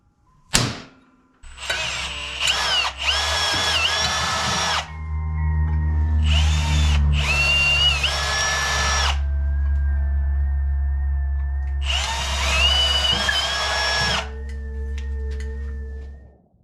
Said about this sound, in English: we're going to try to transfer punch these 4 holes and then get these drilled out